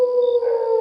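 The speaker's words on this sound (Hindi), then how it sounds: "जंगल से दूर कहीं सियार की आवाज आ रही थी।" A lone jackal's sustained, steady howl rings out clearly in a quiet night setting near a forest, a single drawn-out tonal cry with no other sound around it.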